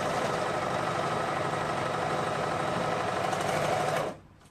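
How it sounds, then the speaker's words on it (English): A sewing machine runs continuously at steady speed, stitching the two short ends of a sweater band together, a close, even whirring hum that stops abruptly after about four seconds, leaving quiet room tone. "I'm going to sew the two short ends together"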